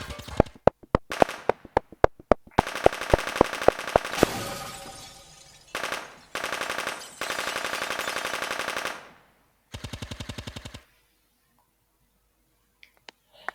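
Loud bursts of machine-gun fire: rapid volleys of sharp shots, a sustained rattling barrage, then a final short burst before near silence.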